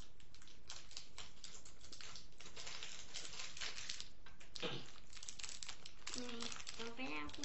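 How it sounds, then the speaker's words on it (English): Mystery box package being ripped open, a steady run of close crinkling and tearing of packaging with brief voice-like sounds mixed in near the end. "Let me rip this open."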